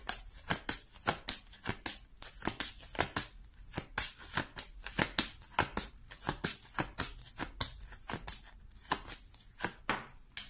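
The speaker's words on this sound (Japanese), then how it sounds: "軽くねシャッフルをしていきます。" A deck of tarot cards is shuffled lightly by hand, giving a quiet, steady series of soft papery riffles and taps in a regular rhythm.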